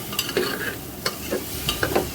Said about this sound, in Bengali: এবার ডালিয়া, মুসুর ডাল, সবজি সব কিছুকে ভালো করে একটু ভেজে নেব।